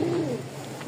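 A pigeon gives one low, soft coo at the start, then only a quiet background remains, close and fairly faint.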